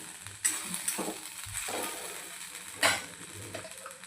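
Peas and paneer being sautéed in masala for a dhaba-style matar paneer, giving a soft frying sizzle with scraping stirs, including two sharper louder scrapes near the start and just before the end, with no talk.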